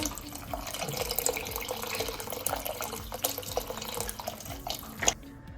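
Broth pours into a pan as a steady splashing, trickling stream that runs for about five seconds, close by. A brief clatter comes near the end before it quiets, with no talking.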